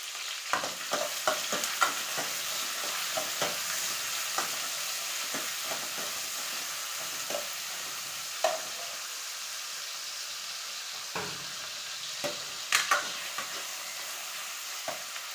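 Onions sizzling in a pan with mustard seeds and curry leaves, a steady close frying hiss broken by frequent sharp stirring scrapes and clinks, no voices.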